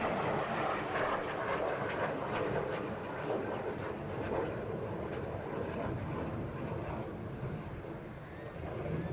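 A MiG-15 jet in US Air Force markings flies at an airshow, giving a continuous broad roar that holds steady at moderate loudness and eases slightly toward the end, with faint distant voices underneath.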